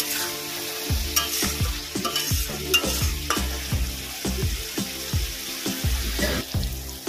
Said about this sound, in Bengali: সেই পেঁয়াজের রসটা দিয়ে দেবো। দিয়ে এবার আরো ভালো করে কষিয়ে নেব।